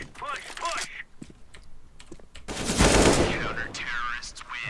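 Gunfire in CS:GO arrives as a dense burst of rapid shots mixed with keyboard clatter, while excited voices talk before and after it.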